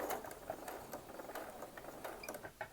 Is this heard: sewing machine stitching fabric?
yes